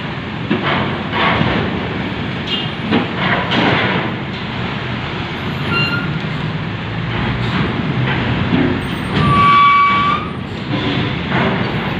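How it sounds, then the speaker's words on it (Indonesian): A tanker truck driving off a ferry: a steady, loud rumble of engine and tires with scattered clanks and rattles over about twelve seconds, with no voices. "Ada truk tangki masuk pertama"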